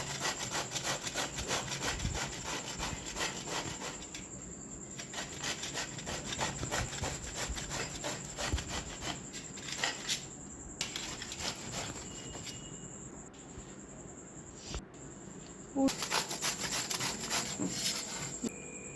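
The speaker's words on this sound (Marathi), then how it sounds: "अर्धा दुधी भोपळा बारीक किसून घ्यायचे आहे" Half a bottle gourd is rubbed finely against a kitchen grater in long, steady rasping strokes, close and continuous, with brief pauses between passes and no talking.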